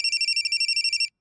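A phone rings loud and close with a rapid, steady electronic trill that repeats for about a second and then cuts off abruptly.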